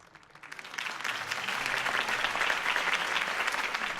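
Applause from a campaign rally crowd after Harvey Dent's speech in Batman: The Telltale Series, swelling from quiet into a steady, dense wash of many hands clapping that holds through to the end.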